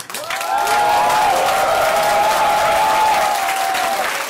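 Sustained, dense applause fills a large hall at a political party event in Austria, steady and loud for several seconds while a faint tone or whistle hovers above the clapping.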